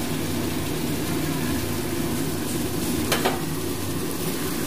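Chicken with banana flower sizzling steadily in an oily pan, with a brief scrape of stirring partway through; continuous close frying hiss with no talk.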